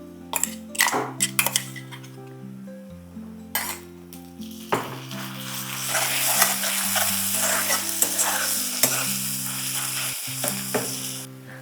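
Ground masala paste sautés with onions for vada pav, first a few sharp spatula clinks against the pan, then a loud, sustained sizzle with steady stirring scrapes, all under background music.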